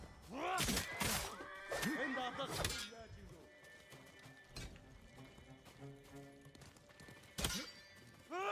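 A horse neighs loudly several times in quick succession in the video game Ghost of Tsushima, then more faintly later, with thuds and a clattering crash in between.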